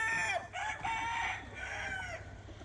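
A free-range village chicken on a poultry farm calls out in a drawn-out, crowing series of notes, fairly close, with faint background noise behind it.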